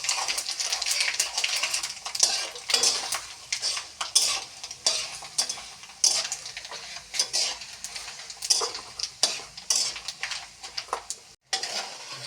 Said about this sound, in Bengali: এই যে ভাজা হয়ে গেল পাঁচফোড়ন